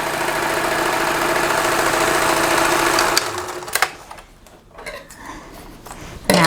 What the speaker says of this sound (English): I'm going to reset this as a straight stitch, and we're going to sew through 4 layers of canvas.